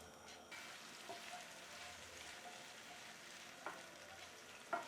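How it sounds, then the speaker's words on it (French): Mbinzo caterpillars are pan-searing lightly, giving a soft, steady sizzle with a few faint clinks of stirring, low in level and without talk. "So we're just gonna lightly just sear them."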